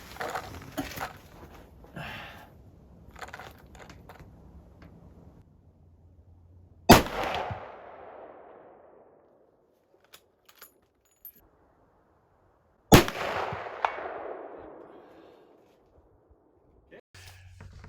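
.350 Rem Mag rifle fires two loud, sharp shots several seconds apart outdoors, each trailing off with a short echo, with speech and handling noises before the first shot.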